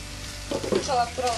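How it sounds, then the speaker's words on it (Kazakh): Eggplant strips frying on top of browned onions in a hot pan, a soft steady sizzle that swells as the pieces hit the oil, with faint clatter close by. "Мінекей біздің пиязымыз біраз қуырыңқырап қалды, оның үстіне біз баклажан салып қуырып аламыз."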